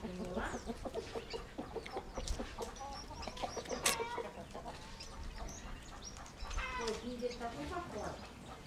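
Chickens cluck and a rooster calls his hens as the flock eats on a small farm. The clucks come in scattered, close bursts, and people speak faintly underneath.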